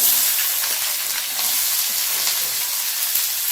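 Chopped onions hit hot tempering oil already holding dried red chillies and seeds, giving a steady, loud, close sizzle and crackle that holds unbroken throughout with no voices.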